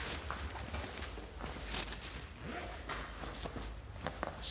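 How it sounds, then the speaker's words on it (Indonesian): Footsteps walking on the upper floor of a villa, a steady run of dull thuds heard from a distance through a noisy, hissy background. "Ada suara langkah kaki berjalan dari lantai 2."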